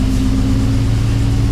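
A swapped Ford Coyote V8, just started after long sitting, idles in a loud, close, steady low rumble with a fast, even pulse.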